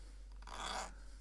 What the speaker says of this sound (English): Just get a flat file.